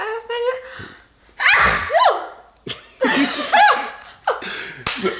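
A loud, close sneeze breaks out among bursts of laughter and gasping breaths from people nearby.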